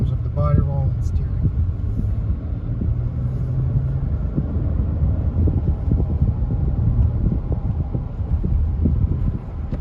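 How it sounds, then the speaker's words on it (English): A 2022 Nissan Frontier pickup is driven hard through a turn, a steady low engine and road rumble with wind noise running throughout at a constant level, with a brief voice near the start. "we're going to try a little bit of aggressive turn and see how it feels in terms of the body roll and steering"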